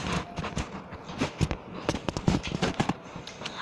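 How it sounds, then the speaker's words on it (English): Shotgun blasts in a Roblox game, a quick series of sharp, close bangs in uneven rhythm, loud and punchy with no talking over them. "I got a shotgun"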